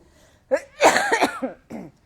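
A burst of harsh coughing, several rough barks close to the microphone with brief pauses between them.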